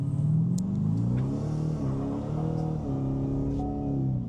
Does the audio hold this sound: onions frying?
no